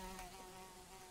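A mosquito in a survival video game hums in a steady, faint whine with evenly stacked harmonics, continuous and unbroken over a brief stretch with no talking.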